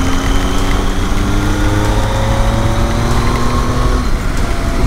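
A Triumph Tiger 1200 motorcycle engine and exhaust drone loud and close while riding in the rain, a steady rumbling run with a slight drop in pitch near the end.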